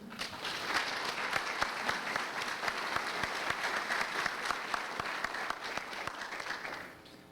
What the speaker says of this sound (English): won't you please join me in a round of applause